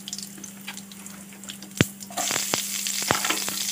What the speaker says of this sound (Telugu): ఆనియన్స్ వేసుకుందాం.